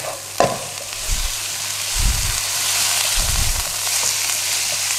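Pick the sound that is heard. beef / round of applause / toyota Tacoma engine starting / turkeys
beef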